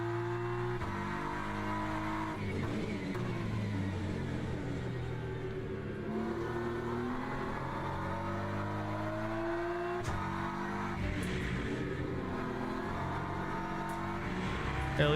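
A GT3 race car engine in the Le Mans Ultimate sim drones and climbs through the revs, dipping briefly at gear shifts and rising again in a steady, close, continuous roar.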